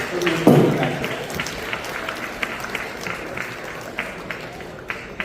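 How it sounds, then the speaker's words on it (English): An audience in a theater applauds after a magic act at an older persons' talent and fashion show, with a sharp burst of clapping followed by steady, moderately loud applause, and voices are mixed in. "Round of applause one more time."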